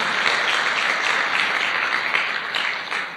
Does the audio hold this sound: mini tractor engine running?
no